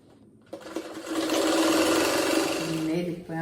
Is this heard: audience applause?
no